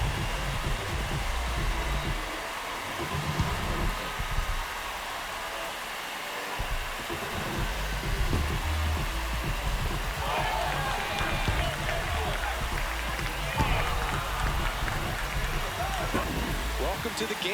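Crowd noise rises in an MLB The Show 26 video game after a solo home run in a Braves versus Phillies matchup, a steady broad roar that swells partway through beneath continuous play-by-play commentary.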